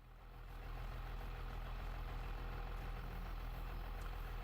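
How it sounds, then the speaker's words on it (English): An older farm vehicle's engine idles in Farming Simulator 25, a steady low rumble that swells in over the first second and then holds constant, alone with no talk. "could have sworn I heard another engine."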